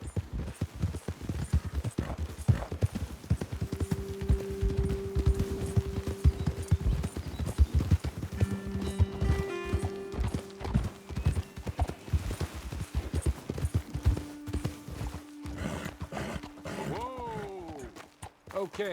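Horses' hooves clip-clopping in Red Dead Redemption 2, a steady close rhythm of hoofbeats on a trail that slows toward the end, with a brief snort or whinny and game characters talking over it.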